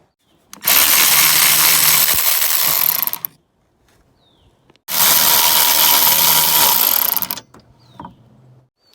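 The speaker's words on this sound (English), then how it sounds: "So you just want to go ahead and loosen those bolts." Two long bursts from an impact power tool loosening the rear sway bar bolts on a Mini Cooper S R56, each about three seconds, loud and close with a quiet gap and a faint clink afterward.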